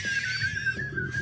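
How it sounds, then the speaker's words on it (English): A man whistles a steady, clear sustained tone with a slight waver for about a second, close and fairly quiet, with no talking. "This is the best whistler in the world."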